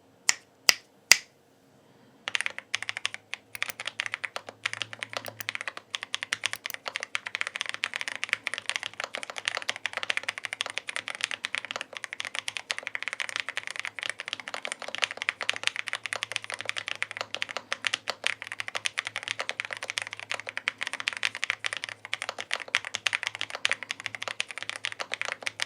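Typing on a GK104Pro full-size gaming keyboard with Hall effect magnetic switches begins after a few sharp opening clicks, then runs as fast, continuous, crisp key clacks for a long stretch, close and loud with no talking.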